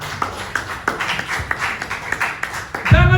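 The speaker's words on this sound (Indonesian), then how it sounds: "Tepuk tangan dulu buat Tuhan Yesus." A church congregation claps in a steady rhythm during an Ascension Day worship service, crisp even beats at a moderate distance with a louder burst at the end.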